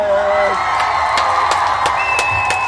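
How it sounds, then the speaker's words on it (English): An audience claps and cheers for the Ujamaa Day babies, sustained applause with scattered whoops and sharp clap transients running throughout, a crowd sound with some voices mixed in. "we want to give all the Ujamaa babies a round of applause"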